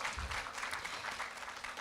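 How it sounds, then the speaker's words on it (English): Audience clapping for a teacher at a human rights week event, a fairly faint, even patter of many hands with a few low thumps near the start. "give her a resounding round of applause"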